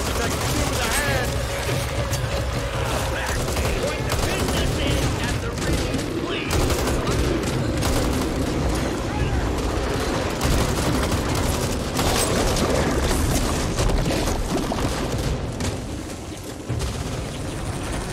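Gunfire fills a co-op shooter video game, sustained bursts of rapid shots and heavy volleys layered into a dense, loud, near-continuous barrage, with voices talking over the fighting.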